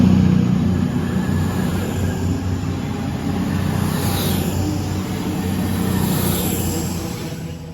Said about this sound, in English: departing now is the 1049 cross-country service to Manchester Piccadilly from Reading